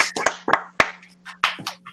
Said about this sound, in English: Please unmute and give Mr. Hargrove a round of applause.